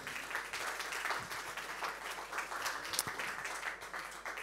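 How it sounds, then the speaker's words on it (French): An audience at a business leaders' conference in the Avignon area claps steadily, a dense, even wash of applause with no break. "Merci de l'accueillir et de l'applaudir."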